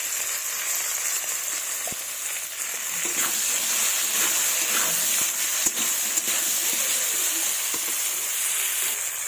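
Potatoes frying in oil with salt and turmeric give off a steady, close sizzle with a bright hiss that holds throughout, with faint clinks now and then.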